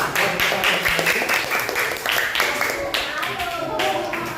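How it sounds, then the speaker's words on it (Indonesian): Schoolchildren in a fourth-grade Islamic religious education class clap their hands together, a dense, steady patter of many small hands close by, with voices mixed in throughout. "Oke, sudah bagus untuk nomor 4, tepuk tangan nomor 4."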